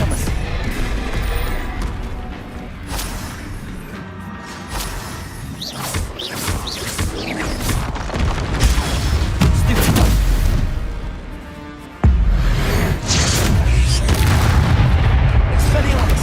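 Confringo fire spells from Hogwarts Legacy on PS5 burst in repeated loud, deep booms, one after another, over a dense wash of combat noise, with voices shouting during the fight.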